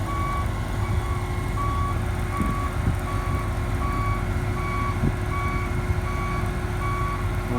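Steady reversing alarm beeping at an even pace beside a running truck while a farm machine is loaded onto a trailer, close and continuous over a low engine rumble.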